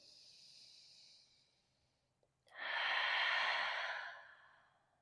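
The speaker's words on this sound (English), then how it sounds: "Exhale through the mouth." A deep exhale through the mouth during yoga sun salutations, a long breathy rush following a softer fading breath, close and alone without talk.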